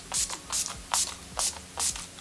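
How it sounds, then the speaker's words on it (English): Makeup setting spray mists out in five quick, evenly spaced hissing bursts, close and loud, with no talk. "The Scandinavia, the makeup setting spray."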